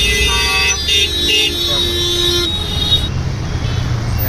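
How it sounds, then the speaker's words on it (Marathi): Steady road traffic rumble in heavy traffic in Pune, India, with a car horn tooting several times early on, then continuous engine and roadway noise. "आणि एवढी जास्त ट्रॅफिक आहे ना आज खूप जास्त ट्रॅफिक आहे"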